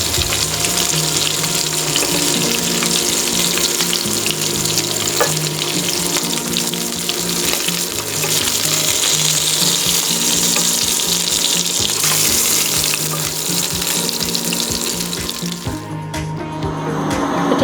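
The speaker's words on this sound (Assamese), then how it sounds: "এতিয়া আমি গৰম তেলত চিডলটো ভাজিলোঁ ভালকৈ।" Shidol, a Goalparian fermented fish, sizzles and crackles steadily in hot oil throughout, a loud, dense, continuous frying hiss heard up close, with no voices.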